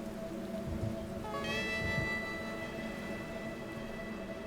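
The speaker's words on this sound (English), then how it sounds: "Rain lashed against his face, obscuring his vision." Steady rain pours down on a rough ocean shore, a continuous hiss with a low, tonal hum running underneath and no voices.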